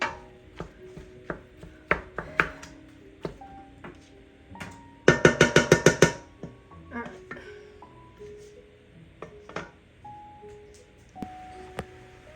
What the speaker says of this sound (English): we are going to peel our carrots and our potatoes so that those are ready to go